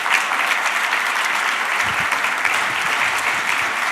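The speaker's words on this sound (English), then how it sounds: "I want you all to give a round of applause for Lisa as she comes up to the stage." Sustained applause from a conference audience welcoming a speaker to the stage, steady and fairly loud throughout, with no pauses or talking.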